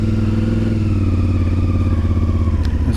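A CFMoto Ibex 450 motorcycle with a sputtering, stalling fault cruises along, its engine note close and steady with a low throbbing rumble throughout.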